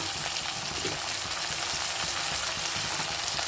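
Tomatoes sizzle as they fry in hot oil for a Tamil-style brinjal kuzhambu, a steady close crackle with faint stirring and no talk.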